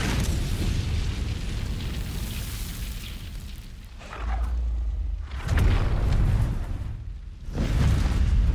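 An Incendio fire spell cast in Hogwarts Legacy comes through as a loud, sustained roaring burst of flame, swelling again in heavy booming waves near the end with no speech over it.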